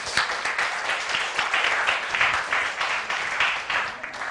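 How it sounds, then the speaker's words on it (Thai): Students clapping in a high school chemistry classroom, a lively burst of close, uneven handclaps that carries on steadily for a few seconds. "ปรบมือให้เพื่อนหน่อย"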